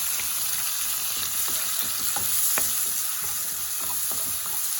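Tomatoes and onions fry in garlic-infused bacon fat for pinto beans, giving a steady, close sizzle with scattered crackles and light stirring scrapes throughout, with no voices.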